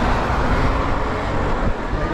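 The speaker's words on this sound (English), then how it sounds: "Bunch of traffic here" Road traffic passing near a rider on a HiKEEP MA-T dual-motor AWD e-bike, heard as a steady broadband rumble of vehicles with wind noise, constant and fairly loud throughout.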